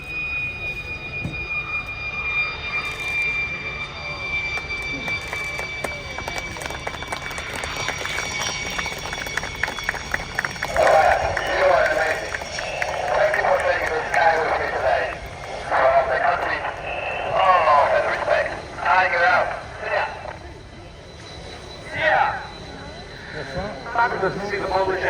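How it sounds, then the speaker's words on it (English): A fast military jet performs a display at the RIAT 2025 airshow, its engine whining and roaring while it swells and fades as it passes, heard under a commentator talking over a public address system. "We're straight on now with our next fast jet display."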